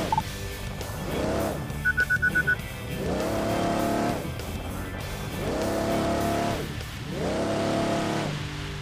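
A UTV off-road vehicle grinds up an obstacle-strewn hill climb in the racing game Overpass 2, its engine revving in repeated rising surges with brief tire noise, loud and close throughout.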